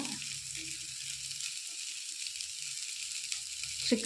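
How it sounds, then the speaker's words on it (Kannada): Chopped tomato and turmeric frying in a pan for a homely chicken curry, giving a steady, soft sizzle throughout with a few faint stirring knocks and a louder clatter near the end. "ಚಿಕ್ಕದಾಗಿ ಕಟ್ ಮಾಡಿರೋ ಟೊಮೆಟೊ ಹಾಕಿದ್ದನ್ನು ಒಂದೆರಡು ನಿಮಿಷ ಹುರ್ಕೋಬೇಕು"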